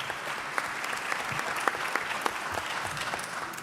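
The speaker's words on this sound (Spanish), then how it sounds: "Un aplauso" Audience applause at a Spanish-language panel on human resources and meritocracy, a steady dense patter of many hands clapping at moderate volume, continuous throughout with no voices.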